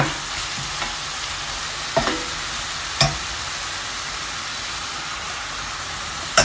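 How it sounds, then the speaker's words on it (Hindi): Chicken frying in a pan until golden makes a constant, dense sizzle, close and even, broken by a few sharp clicks of the utensil against the pan. "चिकन को इतना भुनना है कि इसका कलर चेंज हो जाए और ये गोल्ड हो जाए।"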